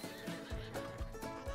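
Horse neighing in a video game, a close whinny repeated in short bursts with hoof-like thumps underneath, loud and clear over no talk.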